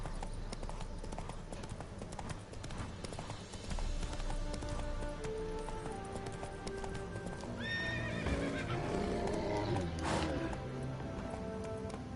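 In The Witcher 3: Hearts of Stone, a horse's hooves clop rapidly in a gallop, with a loud whinny near the end, over a game music backdrop.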